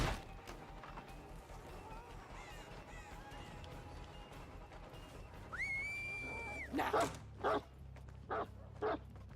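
A dog in the video game Dead by Daylight lets out several short, sharp barks near the end, following a brief tonal whine, over a quiet game background.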